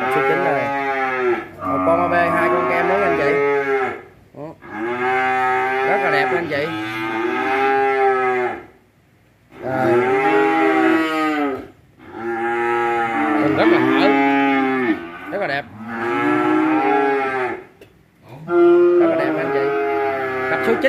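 Cattle at the Thành Trung cattle farm in Vietnam, including Belgian Blue and cream French breeds, give loud, long, drawn-out moos close by, about six calls in a row with short pauses between them and no talk.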